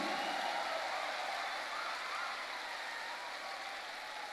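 A large audience at an AWPL 2024 motivational seminar claps in a dense, steady wash of applause that holds evenly throughout without any voices.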